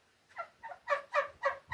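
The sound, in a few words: chickens clucking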